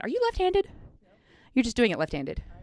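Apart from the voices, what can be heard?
No everyday noise stands out behind the speech.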